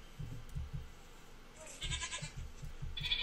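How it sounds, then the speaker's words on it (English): A billy goat gives a nasal bleat partway through, heard alongside low rhythmic thumps and shuffling from nearby goats, fairly faint and with no speech. "Whose idea was it to get a billy goat?"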